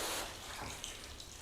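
Water sprays as a fine mist onto a car panel with a year-old Soft 99 coating, giving a steady, close hiss that eases slightly after the first burst. No one speaks.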